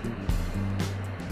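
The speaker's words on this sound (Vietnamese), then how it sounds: "tôi đang nổ máy cho quý vị và bạn xem đây" A 2015 Kia K3 with a 2.0 engine starting up and settling into a steady, low idle, heard close and continuous for a moment.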